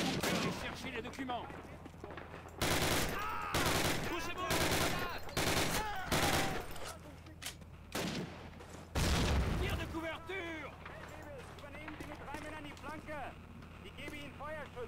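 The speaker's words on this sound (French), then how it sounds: "On entend des coups de feu." Gunfire crackles in Call of Duty 1, with loud, rapid rifle and machine-gun bursts packed together through the middle stretch before easing into quieter distant shots and battlefield rumble, and voices chatter over the action.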